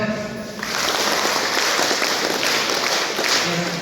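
A crowd of women at a KGF police awareness gathering claps together; a voice speaks briefly before dense, even applause swells in and carries on steadily to the end.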